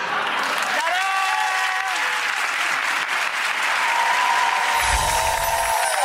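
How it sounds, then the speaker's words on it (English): Steady studio audience applause fills the whole stretch, dense and continuous, with brief cheering tones and a low thump near the end. "They just start applauding."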